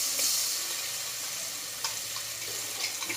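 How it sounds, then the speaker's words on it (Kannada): Chicken roasting in a pan for sambar, a continuous close sizzle with a few soft spits and crackles over the top. "ಸ್ಮೆಲ್ ಆಗೋವರೆಗೂ ಸ್ವಲ್ಪ ರೋಸ್ಟ್ ಮಾಡ್ತಾರೆ."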